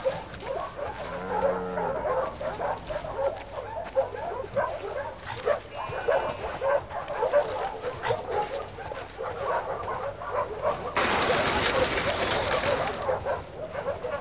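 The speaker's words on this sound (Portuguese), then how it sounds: "Eu adoro essa cadela." A dog in The Last of Us Part II giving repeated short barks and yips amid game ambience, fairly close, with speech woven through.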